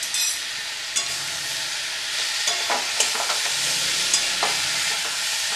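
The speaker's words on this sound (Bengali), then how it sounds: "ভালো করে কষিয়ে নিই" Prawns with ginger paste sautéing in a pan, a constant bright sizzle with intermittent spatula scrapes and knocks, close and without talk.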